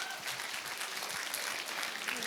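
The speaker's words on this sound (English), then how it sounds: "give Mrs. Underwood a round of applause." An audience in a church chapel applauds, a dense, continuous wash of clapping from many hands without any talking over it.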